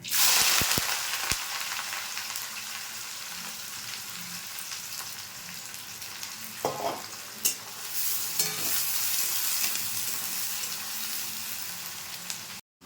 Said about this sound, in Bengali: তেলে আমি গোটা মশলাটা দিয়ে দিচ্ছি আর পেঁয়াজটাও দিয়ে দেবো